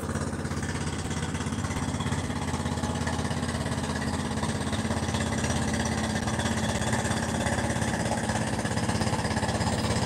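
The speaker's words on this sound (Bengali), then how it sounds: "এই যে আপনারা দেখতে পাচ্ছেন একটা ট্রলার যাচ্ছে মাটি নিয়ে, এগুলো হচ্ছে মাটি বোঝাই করা" A trawler boat loaded with soil chugs along the Turag river, its engine a loud, steady mechanical drone with a throbbing low pulse that carries unbroken through the whole stretch, with no voices over it.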